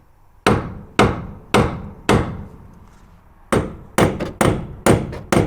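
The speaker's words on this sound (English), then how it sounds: "Then give it tap the other side." A hammer taps a corroded upper-wishbone fulcrum bolt on a Jaguar XKR/XK8, giving about ten sharp, close metallic strikes in uneven groups with a brief pause between them and no voices.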